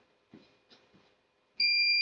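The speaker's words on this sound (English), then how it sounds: "The alarm, the sound alarm sounds, and then it tells us we are over exceeded the size" A Kentix people-counting multisensor occupancy alarm begins a loud, steady high-pitched beep after a few soft, faint background knocks.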